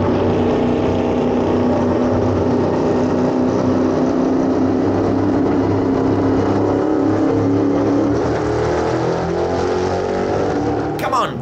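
EuroNASCAR stock cars on a rolling start at Brands Hatch, a loud continuous engine drone with rising whine as the pack accelerates, and a race commentator talking over it throughout.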